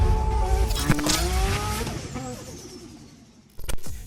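A 1014 hp twin-turbo Audi R8 races a 770 hp VR6 turbo Audi A3, with loud engines revving and rising in pitch as they pull away. A brief tire squeal is followed by a sharp burst near the end.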